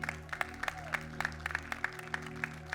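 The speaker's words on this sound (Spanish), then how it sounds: "Dele un aplauso al Señor." Church congregation applause over a sustained musical drone, with sparse, rhythmic claps sounding at a steady beat, fairly close, rather than a dense ovation.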